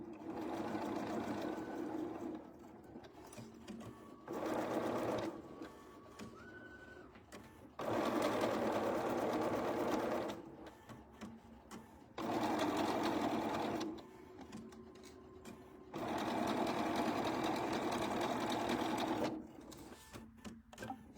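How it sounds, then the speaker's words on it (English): A sewing machine stitches a table runner in four or five steady bursts of whirring, each a few seconds long, with quiet pauses between runs. "let's sew this one on."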